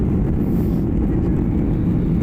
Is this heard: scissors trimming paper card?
no